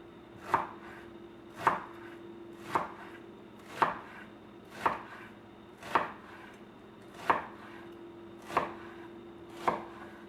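A knife chops red onion on a cutting board in nine evenly spaced, crisp thuds about a second apart. The strokes are close and clear over a quiet background with no talking.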